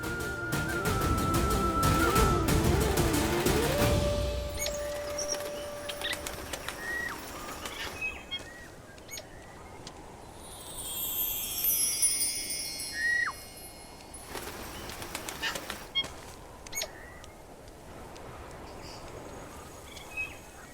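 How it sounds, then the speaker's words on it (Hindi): A migratory bird calls and beats its wings in a dramatised Ramayana scene, with musical tones at the start giving way to soft chirps, coos and bursts of flapping over a quiet rustling background; no talking. "ये तो कोई प्रवासी पक्षी है"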